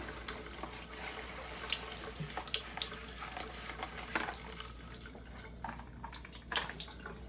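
A moldy vinyl record is rinsed under a running tap at a sink: steady, close splashing water with scattered drips and small knocks, and no voices.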